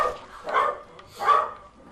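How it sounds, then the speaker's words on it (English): Dogs in the Fallout 4 video game give two short, sharp barks spaced about a second apart, close and alone without talk. "Dogs! What's the matter?"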